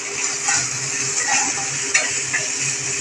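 Chopped tomato and ginger sizzling in hot oil in a pan, a loud continuous close hiss with a few light stirring scrapes and one brief clink near the middle.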